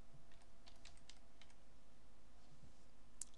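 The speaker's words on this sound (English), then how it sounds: "want to type" Quick, light keystrokes on a computer keyboard as a web address is typed, a short run of soft clicks in an otherwise quiet room.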